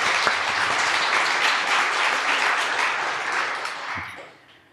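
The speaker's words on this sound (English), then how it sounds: "Please give her a round of applause." Audience applause at a holistic yoga event, dense steady clapping from a seated crowd that holds for several seconds and then tapers off near the end.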